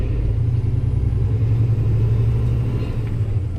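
Steady low rumble of a heavy truck engine pulling away through a right turn while shifting from first into second on a 13-speed transmission, loud and continuous with no talk.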